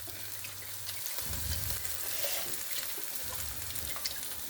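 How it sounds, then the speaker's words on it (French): Water poured into a bowl and stirred during cooking with veal stock, a steady wet swishing and sloshing that continues at close range without pause. "Je vais mettre de l'eau"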